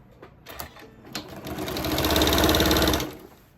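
A sewing machine chain piecing quilt strips for a strip heart quilt: a few short stitching bursts, then a sustained loud run of rapid needle rattle that rises and cuts off, close by and alone.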